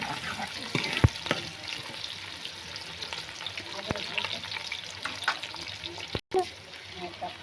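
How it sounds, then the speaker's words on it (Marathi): Onion frying in oil in a home kitchen, a soft, uneven sizzle with scattered clicks and clatters of utensils, faint and close, with a brief dropout near the end. "तेल टाकलेलं आहे. कांदा टाकतायत वहिनी."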